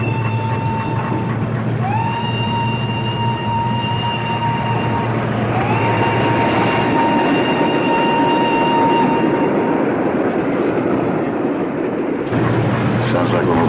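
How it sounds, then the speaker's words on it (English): A moving train rumbles steadily, heard from aboard, with a low droning hum and drawn-out rising whistle tones sliding up and holding over the continuous clatter. "Sounds like we're moving along with the train"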